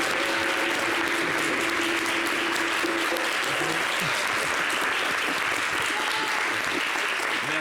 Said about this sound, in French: payez-le en applaudissements, s'il vous plaît